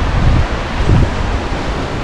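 Sea waves wash in at Maravanthe beach in surging, rushing swells with strong wind buffeting close to the microphone and no speech.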